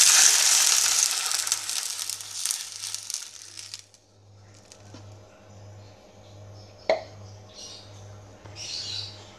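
Water rushes into a hot pot for instant tom yum with a loud hiss that quickly dies to quiet simmering, broken by a few soft clinks.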